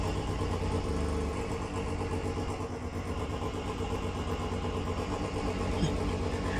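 A steady, loud engine drone runs throughout, a race car motor in the sim racing game rFactor holding a mid-range hum with slight revving.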